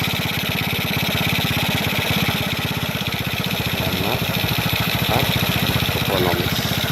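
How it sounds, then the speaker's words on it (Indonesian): Carbureted motorcycle engine idling steadily after a fix for coughing and failing to hold idle, a close, continuous rapid putter with a slight uneven lope, loud throughout with no one talking. "kita tinggal setel lagi dan bisa standar stasioner"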